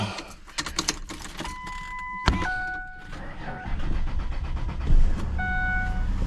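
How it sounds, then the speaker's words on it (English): A truck engine cranks and starts up, with chimes and clicks from the cab, then settles into a steady close idle. "Alright, let's start our truck up in the console."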